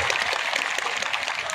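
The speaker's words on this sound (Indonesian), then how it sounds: "Waduh, tepuk tangan." A crowd of high school students at an event at SMA N 12 Semarang breaks into applause, a dense, even clatter of many hands filling the whole short moment.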